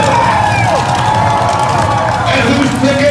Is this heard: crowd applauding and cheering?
yes